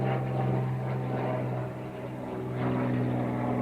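An airplane flying overhead, a loud steady engine drone with a low propeller-like hum that dips slightly mid-pass and swells again, with no voices.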